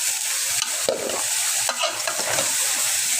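Vegetables stirred in a hot pan for a fish curry: continuous close sizzling and frying with intermittent scraping and stirring strokes, no voices.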